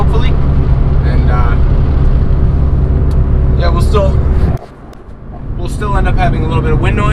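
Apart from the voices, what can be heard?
loud exhaust of a turbo Honda Accord driving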